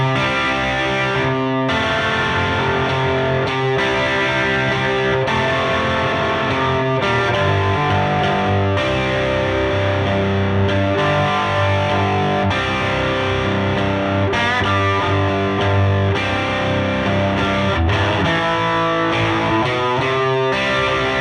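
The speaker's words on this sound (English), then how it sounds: "that's the sound of the Koch amp with the overdrive on and then the OTS on as well to give it a little extra" An electric guitar through a Koch amp with the overdrive engaged and the OTS boost on plays continuous overdriven chords and lead lines, thick and sustained, with brief gaps between phrases.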